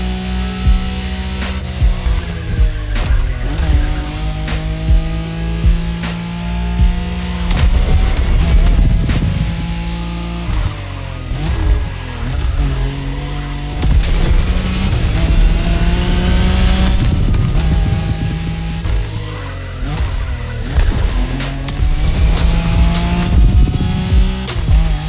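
Nissan Skyline racing in The Crew Motorfest, its engine revving loud and close with repeated rising and falling pitch sweeps through gear changes, layered with game music for the full stretch.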